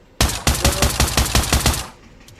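Pistol fired repeatedly in the VR shooter Pavlov, about eight sharp, loud, close shots in quick, fairly even succession, then quiet, with no talking.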